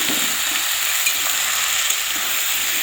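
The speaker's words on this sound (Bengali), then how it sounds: "এবার ভালো করে নেড়ে চেড়ে ভাজবো।" Potato pieces fry in a pan with tomato, onion and green chili, giving a steady, close sizzle while being stirred, with no talk.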